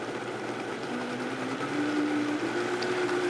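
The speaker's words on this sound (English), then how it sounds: "any other type of food processor that can quickly blend all this together" A food processor blends salad dressing for a carrot and beet spring salad, giving a steady, close motor whir whose pitch climbs slowly as it speeds up from a low start, with no talking.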